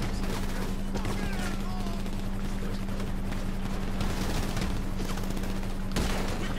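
Gunfire in Grand Theft Auto V, a dense steady stream of shots and crackling blasts filling the whole stretch without pause, loud and busy with no talk over it.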